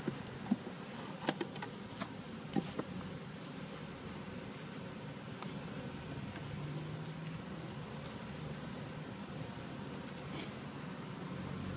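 A steady low buzz of honey bees in a hive after overwintering hums throughout, with a few faint clicks and taps early on, fairly close and continuous.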